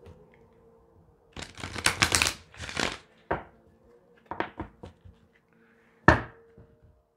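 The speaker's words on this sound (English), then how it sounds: "I'll shuffle one more time" Tarot cards being shuffled in several dry, papery bursts with short pauses between them, close and fairly quiet against a still room, with no talking.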